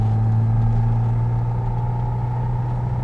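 Restomod Datsun 280Z driving on a street, heard from inside as a steady, loud low engine drone and road rumble holding an even pitch throughout.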